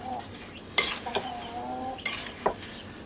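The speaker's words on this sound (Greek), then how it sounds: "Ανακατεύω λιγάκι." A spoon stirs sliced apples tossed with sugar and cinnamon in a bowl, making soft scraping, clinking strokes, with a couple of sharper knocks close by and nobody speaking.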